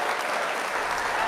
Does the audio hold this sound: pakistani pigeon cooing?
no